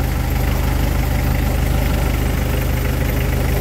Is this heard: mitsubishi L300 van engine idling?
yes